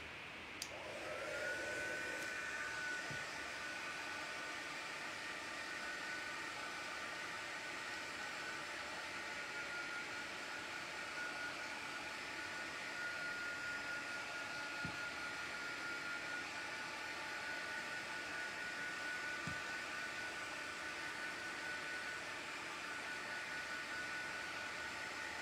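A heat tool or hair dryer blows steadily over crackle paste, a constant airy whir with a high tonal whine that starts after a brief click and runs unbroken, fairly quiet, with faint knocks in the background.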